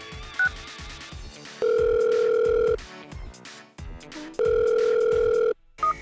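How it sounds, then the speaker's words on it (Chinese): A telephone call rings unanswered: two long, steady ringback tones sound clearly over a busy cartoon background of short musical blips and effects. "怎么不接电话？"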